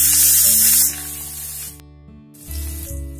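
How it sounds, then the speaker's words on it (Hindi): Green chili and chopped ginger frying in a pan for bottle gourd kofta curry, a loud bright sizzle that drops away briefly mid-clip, then flares up again. "और इसे अच्छे से फ्राई होने दूंगी।"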